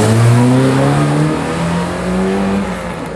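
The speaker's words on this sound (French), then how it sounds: "Ce sera ensuite au tour de la Golf GTI numéro 62 de s'élancer" A 1800 Volkswagen Golf GTI, number 62, launches at a historic hill climb, its engine revving hard and loud close by, pitch climbing through gears before easing slightly.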